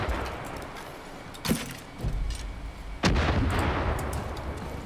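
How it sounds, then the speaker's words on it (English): Explosives blowing up in the video game Far Cry 5: a few sharp, booming blasts arrive about a second apart, each followed by a rumbling tail over low background noise. "I'm trying to blow up all the explosives before, actually."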